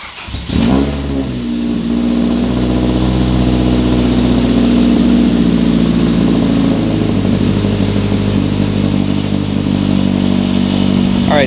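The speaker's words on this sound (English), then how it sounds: "So now we just need to start her up and see how she sounds." A Mazda NC Miata with a modified exhaust cranks briefly and fires up, then settles into a loud, steady, throaty idle that holds evenly close by.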